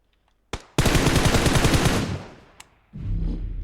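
A close burst of rapid automatic gunfire in PUBG Mobile, one sharp shot followed by a sustained loud rattle for over a second, then a single stray shot and renewed noisy rumble.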